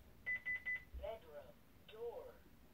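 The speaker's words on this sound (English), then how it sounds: "Not that loud of a beep compared to my wired panel" A Honeywell Lynx Touch L5100 wireless security panel sounds as a door opens: three short, evenly spaced electronic beeps at moderate volume, followed by two soft, low-pitched tones, with faint background hiss between them.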